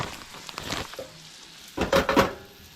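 Small pieces of deer heart fry in a pan, a soft sizzle with a few utensil clinks, then a louder crackling burst near the end.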